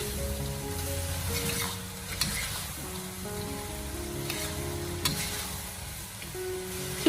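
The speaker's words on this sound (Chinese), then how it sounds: "用大火给它持续的翻炒1分钟左右，把青蒜苗给它翻炒至成熟" Duck pieces and green garlic sprouts stir-fried hard in a wok over high flame give a steady, close sizzle with occasional scraping clinks of the spatula, no talking.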